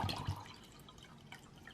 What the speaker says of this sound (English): So I got water over here. We're gonna fill it up, the beaker,